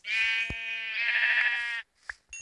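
A sheep in the Minecraft video game bleats in a long, loud, wavering cry close by, with a sharp click partway through and a couple of short blips after it ends.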